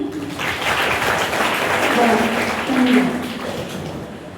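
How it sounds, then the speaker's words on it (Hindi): Loud applause from a gathering of schoolchildren at a school anti-drug campaign event, a full rolling wash of clapping lasting a few seconds, with voices and some tonal sounds mixed in. "आपके लिए जोरदार तालियां।"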